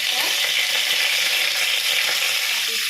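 Bay leaves sizzle and crackle in hot mustard oil, a dense, continuous frying hiss heard close and alone.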